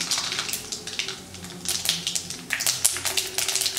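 Mustard seeds fry and pop in hot oil in a kadai, giving a dense crackle of sharp, irregular snaps over a low sizzle, close and fairly loud, with no voices.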